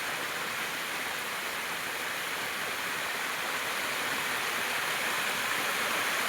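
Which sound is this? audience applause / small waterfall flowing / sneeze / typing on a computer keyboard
small waterfall flowing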